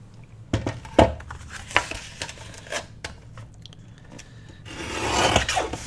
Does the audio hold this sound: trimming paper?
yes